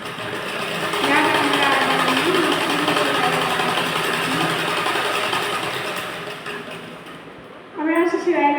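A sewing machine stitching a Morni-style blouse runs in one steady, close whirring stretch for several seconds, then stops, and a voice speaks briefly right after.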